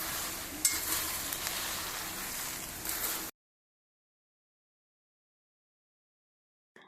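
Fenugreek seeds and chana dal dry-roasting in a pan over medium flame, stirred with a soft sizzling, scraping rustle up close for about three seconds before silence.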